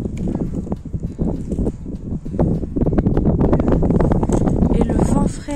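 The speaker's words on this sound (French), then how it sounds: "Et le vent frais là, ouf." Steady gusting wind buffets the microphone at a high lookout in Oslo, Norway, a constant low rumble with a few louder bursts, while a person talks over it.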